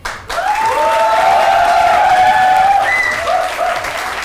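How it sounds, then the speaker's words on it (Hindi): A studio audience at an Eid special TV show applauds and cheers for the black team. After a brief pause, loud clapping swells, overlaid with prominent high whistling or shrill cheering tones that last about four seconds. "पहले तालियां हो जाए ब्लैक टीम के लिए।"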